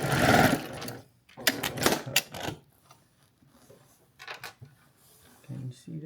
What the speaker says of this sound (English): We're going to sew right in that corner.